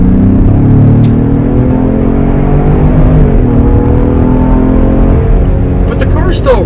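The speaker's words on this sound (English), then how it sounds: "it pumps more of that V6's audio into the car, so it sounds like you're getting more of an exhaust note" A steady, throaty V6 engine drone, artificially piped through the car speakers, fills the cabin of a 2022 Ford Explorer King Ranch, low and continuous, with a faint rise in pitch as the car pulls, under a speaking voice.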